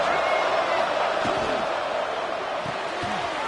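Crowd noise in a college football video game, a steady dense roar of a stadium crowd on third down, with a few bouncing thuds and talk over it.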